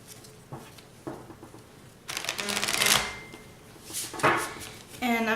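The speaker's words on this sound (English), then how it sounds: "Okay, so I'm going to go ahead and shuffle the cards." Tarot cards being shuffled by hand at close range, in two or three dry, papery bursts of riffling and patting separated by brief quieter pauses.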